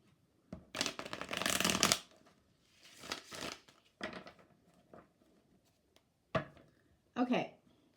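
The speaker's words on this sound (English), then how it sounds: "Whoops, that was a terrible shuffle." Tarot cards are shuffled in several quick, crisp riffling bursts, the longest near the start and shorter ones following, close and fairly quiet with pauses between.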